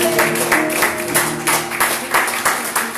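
A church congregation claps along during a worship service, steady rhythmic handclaps close and loud over sustained music tones.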